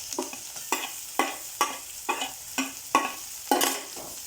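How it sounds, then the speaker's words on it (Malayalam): Chicken cutlet filling being sautéed in a pan: a soft sizzle punctuated by about eight evenly spaced scraping stirs of a spoon, close and clear with no voices. "ഒന്നും കൂടി നന്നായി വഴട്ടാം"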